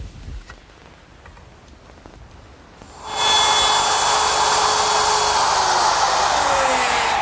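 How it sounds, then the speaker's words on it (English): A plunge router with a straight bit spins up and cuts a mortise in wood: quiet at first, then a sudden loud, steady high-pitched whine and roar that holds to the end, alone without talk. "Now to cut the mortise, I'm going to use my router, which is equipped with a straight cutting bit"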